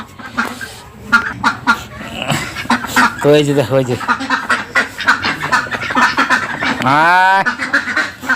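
Ducks, including a black one, quack and call from a large dark coop, bursts of nasal squawks rising through the clip while someone talks over them close by.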